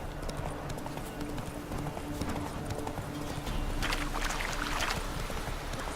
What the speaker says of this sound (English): Horses racing.